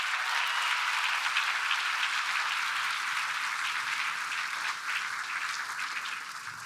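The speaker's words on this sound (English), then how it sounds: "can you please again give our former Prime Minister a big round of applause?" A large conference audience at CPAC 2025 gives a big round of applause to former Prime Minister Tony Abbott; dense, steady clapping fills the room at an even level throughout, with no voices above it.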